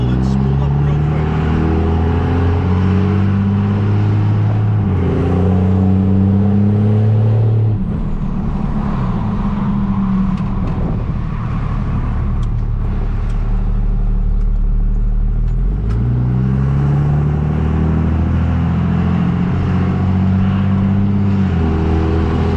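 A Cummins diesel engine fitted with an ATS Aurora 3000 turbo revs up and down in repeated cycles, rising and falling loudly and close by, with people talking under the engine noise.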